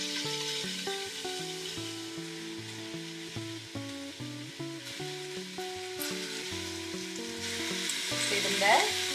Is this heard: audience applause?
no